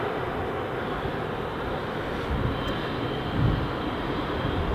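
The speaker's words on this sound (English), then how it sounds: "Sounds like they've just started the APU as well, so just started the auxiliary power unit." At Southend Airport, a parked aircraft's auxiliary power unit drones as it starts up, a loud steady roar that swells slightly partway through, with no speech.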